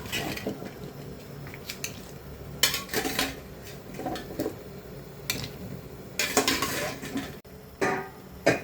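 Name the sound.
cauliflower added to boiling water in a pot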